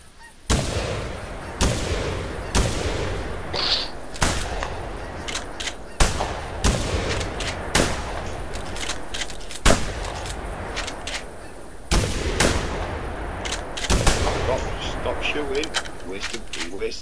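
Hunting rifle shots ring out in theHunter during a goose hunt with decoys, about ten sharp loud reports spread irregularly over a steady outdoor ambience, with goose honks and voices talking between them.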